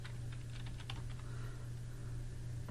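Fingers tap out a short word on a computer keyboard, a quick cluster of light clicks near the start that then thin out over a steady low electrical hum, with no voices.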